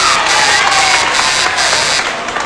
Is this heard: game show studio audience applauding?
yes